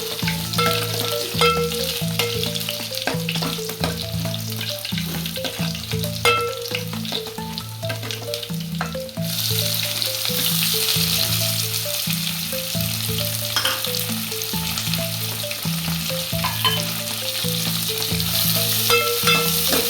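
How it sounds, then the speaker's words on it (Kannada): Garlic and onion fry in hot oil for rasam, giving a steady close sizzle with stirring clatter and utensil taps throughout, and the crackle swelling louder partway through; no voices. "ಇವಾಗ ಬೆಳ್ಳುಳ್ಳಿ, ಇದು ಸ್ವಲ್ಪ 1 ನಿಮಿಷ ಫ್ರೈ ಆದಮೇಲೆ ಈರುಳ್ಳಿ"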